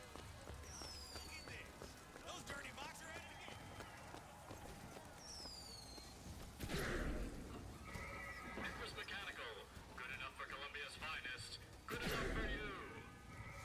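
Video game horses whinny repeatedly in high, quavering calls over hoof clops and a busy game background, with a couple of louder bursts.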